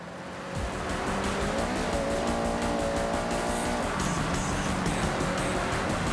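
A race car engine in Forza Horizon revs hard and climbs through the gears with a rising tonal whine, tyres squealing as it overtakes, close and steady with no talk.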